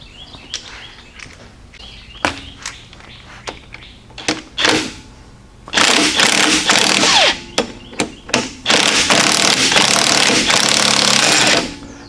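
Wrench working on bolts during a teardown of a junkyard 408 stroker engine, sharp metallic clicks and taps at first, then loud sustained rapid ratcheting bursts close by, no talk.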